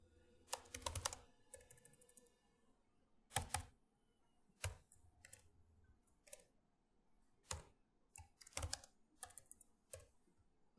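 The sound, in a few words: typing Python code on computer keyboard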